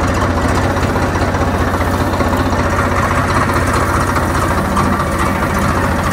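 A big tractor engine runs steadily in a farm field at night, a loud, close, rhythmic diesel throb with constant vibration and no talk.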